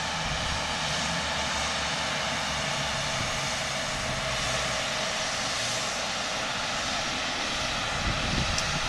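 An ATR turboprop airliner at Portland airport, a steady loud drone of propeller engines that holds evenly throughout with no talk.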